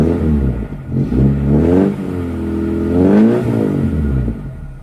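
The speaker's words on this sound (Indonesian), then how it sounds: "Kita gas dulu seperti biasa karena mesinnya masih karburator." A 1987 Toyota Corolla SE Saloon with a carbureted engine is revved up repeatedly at close range, the engine note rising and falling loudly through several throttle blips.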